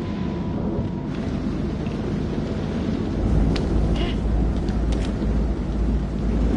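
Thunderstorm in the horror game Man of Medan: continuous heavy rain with low rumbling thunder building toward the end, steady and fairly loud, with no one talking.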